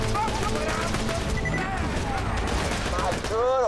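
Dense, loud gunfire and grenade blasts fill a Borderlands 2 firefight, a continuous barrage of shots and bursts with game voices and effects woven through.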